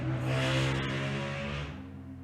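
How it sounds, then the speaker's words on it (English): A motorcycle passes outside, a steady engine drone with strong low harmonics that swells slightly and then eases off over about two seconds, with no talking over it. "I assume you probably heard that motorcycle going by."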